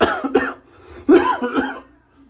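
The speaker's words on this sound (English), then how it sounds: "Excuse me for the cough there." A few harsh, close coughs in quick bursts, the loudest in the middle, trailing off into quiet.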